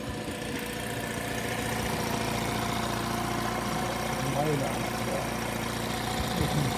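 Steady low idle of a lightly used Honda 7.5 horsepower four-stroke outboard motor, a constant mid-pitched hum running the whole time beneath a man's intermittent speech.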